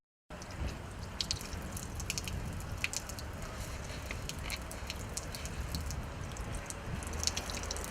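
Water runs over bare feet and between the toes during ritual ablution, making a faint continuous trickle with soft wet squishes and scattered drips.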